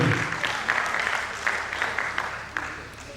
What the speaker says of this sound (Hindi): एक पुरजोर ताली में चाहूंगा डॉक्टर अशोक आजाद साहब को।